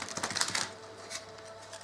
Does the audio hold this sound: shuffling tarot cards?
yes